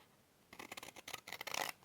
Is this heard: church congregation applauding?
no